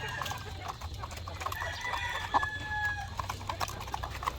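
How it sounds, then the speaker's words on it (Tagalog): White Leghorn hens in nest boxes cluck steadily while laying eggs, a close, continuous chorus of clucks with a few higher drawn-out calls, no talking. "so ito rin yun yung mga white leghorn nangingitlog sila yan mga itlog"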